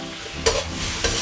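Pork being stir-fried in a hot wok with smashed garlic, sliced ginger, scallion pieces and chili, with a steady sizzle and two sharper bursts of frying noise as the aromatics hit the pan and are tossed, no talking.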